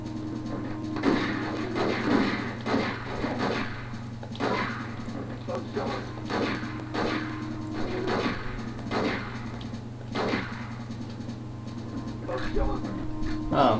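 Repeated pistol shots from the Mustang gun in the N64 game The World Is Not Enough, sharp and fairly loud at irregular intervals, with talking and a steady hum throughout.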